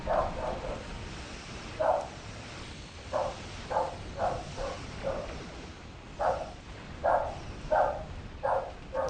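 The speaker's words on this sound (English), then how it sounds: "My dog's going crazy." A pet dog in a Star Trek Online space battle yaps in short, sharp bursts, roughly a dozen barks spaced unevenly over several seconds, fairly close above a low steady hum.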